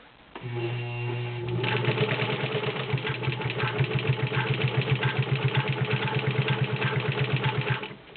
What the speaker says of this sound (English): Now we'll get her on here and we will sew 5 layers of denim.